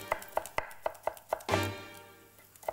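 Parsley bunch chopped finely with a knife on a board: about seven evenly spaced, sharp close taps, then a heavier thud with a brief rumble, no voices.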